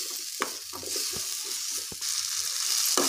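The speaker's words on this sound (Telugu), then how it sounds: "తర్వాత అదే ప్యాన్లో టమాటా ముక్కలు కూడా వేసుకొని బాగా మగ్గనివ్వాలి." Tomato pieces fry in a pan for a bottle gourd pickle, a soft steady sizzle with a few sharp clicks and scrapes of a utensil.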